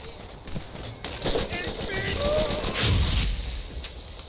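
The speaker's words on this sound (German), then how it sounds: "Ein Revolver mit Explosion." Explosive revolver gunfire in the video game Borderlands: a loud run of rapid bursts and booming blasts layered over game noise, with a voice talking over it.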